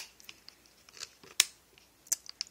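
A few faint, sharp mechanical clicks of a Nikon D3100 DSLR's mirror and shutter, spaced apart in a quiet room; one click stands out louder than the rest.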